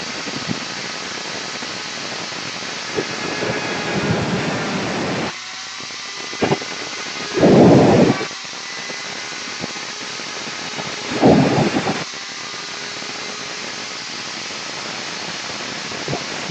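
Rotary tool at low speed cutting a plastic car stereo bezel, a steady grinding whir with broadband noise that swells into several louder bursts of cutting contact, heard close and alone.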